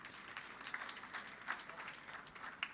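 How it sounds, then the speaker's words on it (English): Faint applause from the audience at a fellowship induction ceremony during the Commonwealth AI Global Summit, a soft, even patter of clapping heard from a distance with a few sharper claps standing out. "A huge round of applause"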